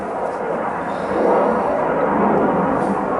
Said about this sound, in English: Wow, that airplane is pretty loud.